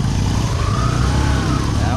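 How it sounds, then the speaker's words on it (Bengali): A motorcycle stuck on a muddy road at night churns out a continuous, close, low engine drone that holds steady throughout, with voices over it. "ওই যে দেখেন সামনে বাইক আটকে পড়ছে"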